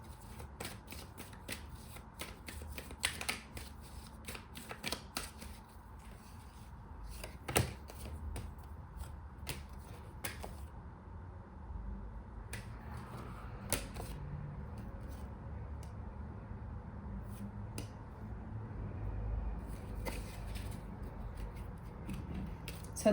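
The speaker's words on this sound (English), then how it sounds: "So I'm going to cover the cards that I feel need to be covered just for more clarification." Tarot cards are shuffled, riffled and placed on a surface, giving soft, close papery flicks and taps in an irregular rhythm over a quiet background.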